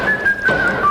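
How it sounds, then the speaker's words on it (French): A comedic whistling hammer sound effect: a single sustained, clear whistle tone that holds fairly steady then drops slightly near the end, loud and alone. "C'est un marteau siffleur."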